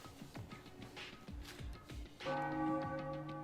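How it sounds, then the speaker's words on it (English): A bell rings out in a bell tower in the Super Danganronpa Another 2 game, a sustained bright clang with ringing overtones that swells in over busy background sounds and holds loud to the end. "he hit the bell"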